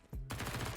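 MP9 submachine gun fire in Counter-Strike 2, a brief rapid burst of quick, rattling shots following a short initial click, quiet and compressed.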